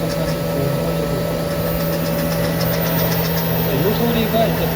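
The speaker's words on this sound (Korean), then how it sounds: "이 소리가 이제 베드의 모터가 되는 소리죠." The bed motor of a Cubicon 3D printer runs continuously as the bed moves, a steady mechanical hum with tonal whine, heard close and loud under someone talking.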